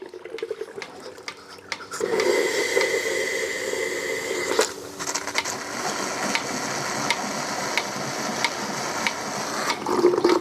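A milking machine draws water through during cleaning with a gurgling, sucking rush that starts abruptly and keeps going, mixed with mechanical clicks and rattles.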